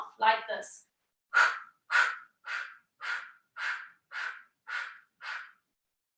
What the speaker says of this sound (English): It's called Kapalabhati, and it's a very strong exhale